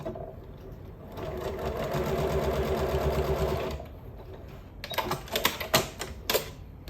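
A sewing machine stitches along the edge of a quilted fabric cover in a fast, even mechanical chatter for about three seconds. It stops, followed by a few sharp clicks and handling knocks, with no talking.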